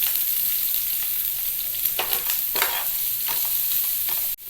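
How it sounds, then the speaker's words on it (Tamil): Ginger, garlic, curry leaves and green chili sautéing in hot oil, a constant close sizzle broken by a few scraping stirs of the spoon, ending with a sudden brief drop near the end. "இஞ்சியும் பூண்டையும் சேர்த்து நல்லா வதக்கிக்கோங்க."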